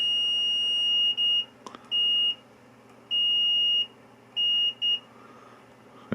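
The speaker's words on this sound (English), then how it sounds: "I should be getting some noise out of my tester" An electrical continuity tester beeps in steady high-pitched tones of uneven length, five or six bursts separated by short gaps, with a click partway through and a low hum underneath.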